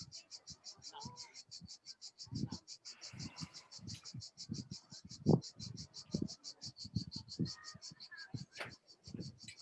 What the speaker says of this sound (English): not the birds, but some insects.